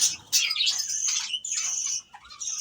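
Shrill, continuous chirping and squeaking of young lovebirds, close and loud, with brief pauses between rapid calls.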